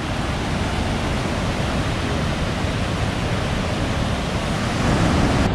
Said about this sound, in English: The water's flowing awesome right now.